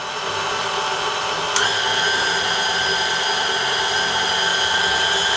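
A KitchenAid Artisan 5KSM12 planetary stand mixer hums steadily at its first speed, a constant close motor whine with a brief click partway through and no voices.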